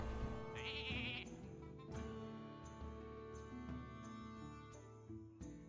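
A sheep bleats several times in the video game Hearthstone, over a steady background of tonal music and soft clicks, with no talking.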